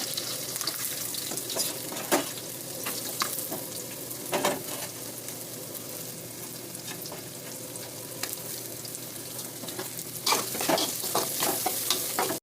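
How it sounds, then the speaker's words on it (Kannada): Onions for cabbage palya fry in a pan with a steady low sizzle and intermittent stirring scrapes, close and fairly quiet, growing busier toward the end. "ಈಗ ನೋಡಿ ಈರುಳ್ಳಿ ಫ್ರೈ ಆಗಿದೆ"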